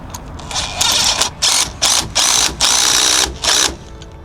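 Loud, close bursts from an impact wrench running bolts on tire chains for a track, with several sharp rattling runs separated by brief pauses.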